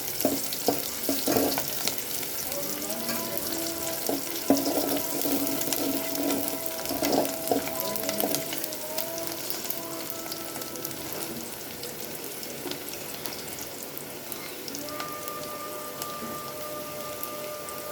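Ingredients for soupy noodles fry in a hot pan, a continuous dense crackling sizzle like rain on a surface, with occasional stirring sounds and no voices.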